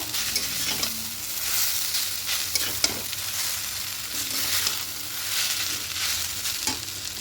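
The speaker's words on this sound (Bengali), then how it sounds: "এবার এখানে যে সসটা তৈরি করেছিলাম সেই সসটা দিয়ে দেব আবার মিশিয়ে নেব" Egg chow mein being stirred through sauce in a hot pan, with a steady close scraping and tossing over a continuous sizzle, loud and unbroken, with no voices.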